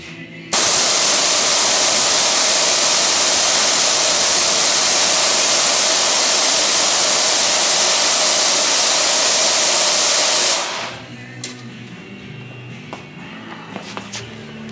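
Nitrous oxide blasts through a Nitrous Express bottle valve at 1000 psi in a loud, steady hiss lasting about ten seconds, then cuts off abruptly, leaving quiet rustling and faint handling noises.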